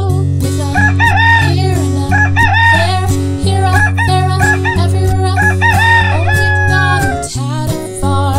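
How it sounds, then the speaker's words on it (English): A rooster crows loudly several times in a row over a bouncy children's song with instruments and a singing voice. "And on that farm he had a rooster."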